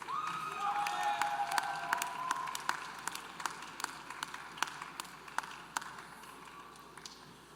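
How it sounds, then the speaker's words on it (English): Scattered applause from a crowd at a university graduate commencement ceremony, dense clapping at first that thins into sparse, separate claps toward the end, with a faint whistle or cheer early on. "Let's have a round of applause for all those students hooded"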